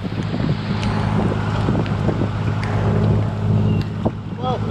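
Strong wind of about 40 knots roars steadily across a sailboat under way off Thailand in zero visibility, a loud, continuous rush of wind buffeting the microphone, mixed with water noise.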